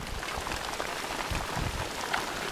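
Rain patters steadily on a fishing boat out on the water, a dense, even wash of drops close around with no voices.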